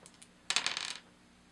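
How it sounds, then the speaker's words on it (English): Two dice rolling in a tabletop game played solitaire, a short clattering burst of tumbling clicks lasting about half a second, close and alone. "She gets 2 dice to roll."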